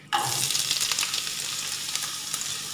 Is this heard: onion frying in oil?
yes